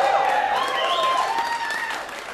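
Live audience cheering and applauding at a comedy podcast taping in the Buffalo Rose venue in Golden, Colorado, a steady wash of clapping with a few whoops, fading slightly toward the end.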